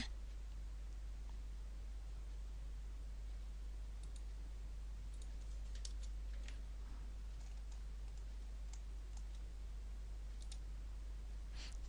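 Faint computer mouse clicks come in scattered single taps and short pairs over a steady low electrical hum, with no one talking.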